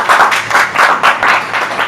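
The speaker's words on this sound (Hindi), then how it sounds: "जोरदार तालियां दे दो," Clapping from a church congregation at a Hindi-language Christian sermon, a loud, steady burst of many hands in rhythmic pulses for about two seconds, with no talk over it.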